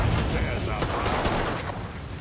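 Gunfire and explosions in the crime shooter Mafia 3: a dense, continuous barrage of shots and booming blasts, loud and sustained throughout, with someone talking over the combat.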